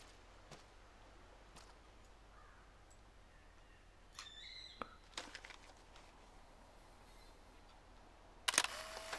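Camera snapping a photo in the video game Life is Strange, a single sharp shutter click near the end after quiet ambience with scattered faint clicks and crow-like caws.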